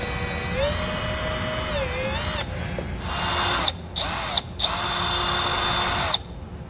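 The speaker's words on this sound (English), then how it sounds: "I'm going to be drilling right into the center of that plastic rivet" A power drill drilling into a plastic rivet on a 2014 Dodge Durango whines at high speed, then runs in several short, loud bursts separated by brief pauses, close by.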